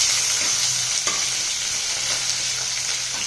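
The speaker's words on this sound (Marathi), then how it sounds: "बारीक चिरलेला कांदा घालायचा आहे।" Finely chopped onion hits a hot pan of oil with red chilli for carrot-cucumber poha, giving a steady, close hiss of frying with light stirring scrapes throughout.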